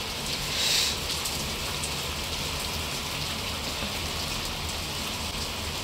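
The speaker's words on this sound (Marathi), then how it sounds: "पाऊस ना हळूहळू वाढूनच राहिला बघा, स्पीड कशी वाढत आहे।" Heavy rain pours down in a dense, continuous hiss of drops on surfaces, steady and enveloping, with a brief brighter swell near the start and no voices.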